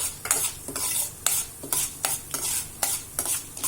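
Garlic frying in a pan during rice-dish preparation is stirred with quick, regular scraping strokes, about eight in a row, over a soft, steady sizzle.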